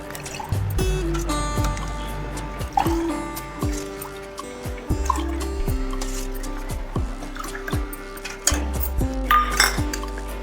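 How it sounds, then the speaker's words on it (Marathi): Falooda mixture with almond slivers spooned into a serving glass: a string of close clinks of a spoon on glass, with wet drips and small sloshes as the mixture falls in. "आता ग्लासमध्ये टाकून घेऊया आपण"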